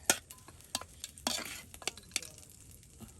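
Spicy chicken curry with spices is stirred in a pan, a utensil scraping and clattering in quick irregular strokes over a soft frying sizzle, close and fairly quiet, with no voices.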